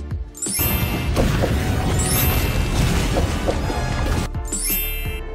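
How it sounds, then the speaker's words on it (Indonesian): A loud, sustained crashing roar of debris and rumble from a film's gas explosion in an underground passage and an old building collapsing, with sharp bursts at the start and near the end. "mengenai saluran gas yang ada di lorong bawah tanah itu hingga menghasilkan sebuah ledakan keras"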